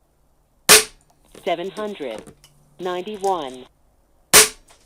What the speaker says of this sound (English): We'll go for a shot.